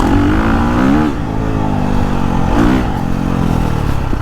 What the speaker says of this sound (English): One of the things I'll do for engine braking is just let the thing rev up in a gear and just back off.